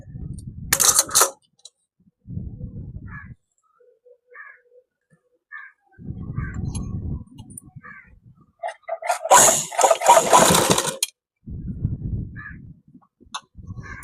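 A sewing machine top stitches a school shirt collar, running in several short bursts of steady whirring separated by pauses, with small clicks and handling sounds in between.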